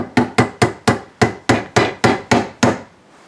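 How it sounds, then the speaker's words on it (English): A hammer strikes a 1/8 punch ten times to drive a small drive pin back into a shaft, sharp metallic taps in an even rhythm, close and loud, ending in silence. "I'll just reinstall it using the hammer here"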